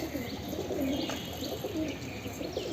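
A black pigeon coos softly and steadily at close range, low murmuring calls repeating over faint rooftop background with a few thin chirps, no voices.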